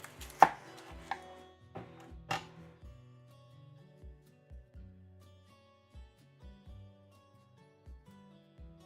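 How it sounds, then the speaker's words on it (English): A knife chops an onion on a cutting board, producing a few louder initial cuts and then a series of quiet, fairly regular thuds spaced about half a second apart, close and alone. "we're gonna cut up an onion"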